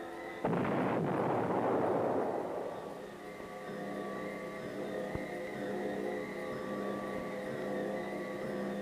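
A missile firing from an air defense launch site: a sudden loud blast that rolls into a broad rushing roar, fading over a few seconds into a steadier distant rumble with a faint hum.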